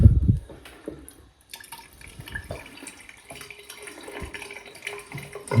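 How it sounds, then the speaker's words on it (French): Water running through household pipes and a tap after the hot water supply to a newly installed water heater is opened, a soft uneven trickle and dripping with gurgling bursts, close and fairly quiet. "Donc là, j'ai ouvert l'eau chaude."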